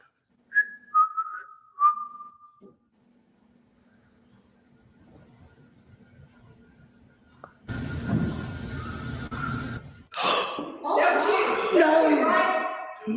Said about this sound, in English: I'm going to whistle a tune and I want you to finish it if you can